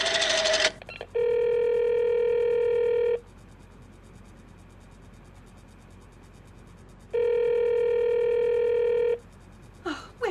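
A telephone in a radio drama gives two long, steady electronic tones several seconds apart, each starting and stopping sharply, with a brief click and rattle at the start and again at the end.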